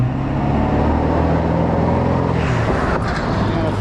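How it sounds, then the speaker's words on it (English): A car passes on a road beside a parked e-bike, a loud close rumble of engine and tyres that swells and shifts as it goes by, with no talking. "Another car coming."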